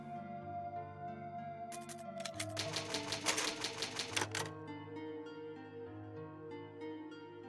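Typewriter in a Resident Evil game saving progress with an ink ribbon: a rapid run of crisp mechanical key clacks and a carriage sound over a steady ambient music bed, with no voices.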